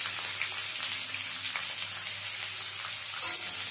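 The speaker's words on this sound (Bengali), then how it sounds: "সমস্ত পেঁয়াজ দিয়ে পেঁয়াজটা ভেজে নেব" Chopped onions with sugar and spices frying in a pan, a steady dense sizzle and crackle running continuously at close range with no talking.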